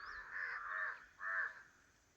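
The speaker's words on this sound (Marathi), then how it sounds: "एकदम काव काव त्यांचा आवाज चाललेला आहे." Crows caw near a village check dam: two drawn-out, harsh calls a short distance away, with a brief pause between them and nothing else around them.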